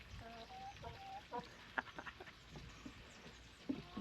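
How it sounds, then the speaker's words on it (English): A small backyard flock of chickens clucks and murmurs close by in short, uneven bursts, with a few louder squawks scattered through the soft farm background and no talking. "The 10 chickens that we got after the 5, they're doing really well."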